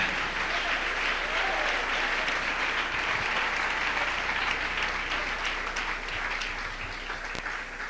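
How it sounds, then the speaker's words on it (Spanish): A church congregation applauds the Lord during a sermon, a steady wash of crowd clapping with a few faint voices underneath that tapers slightly toward the end. "Dele ese aplauso al Señor."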